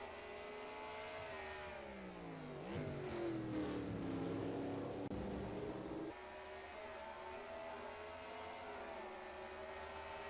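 Race cars in a sim racing game come into the carousel on the Upper Peninsula of Michigan track, engines whining steadily and dipping in pitch as they brake, then climbing again on exit.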